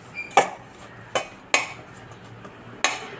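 Spoon or utensil striking a bowl at intervals while baby corn is tossed with spices for a pepper fry, four or five sharp clinks with quiet pauses between them, close and fairly loud.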